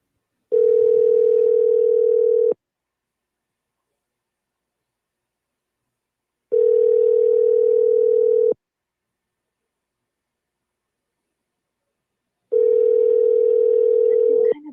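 A telephone ringback tone sounds while a call is placed, three steady loud two-second tones separated by about four seconds of silence, with no voices.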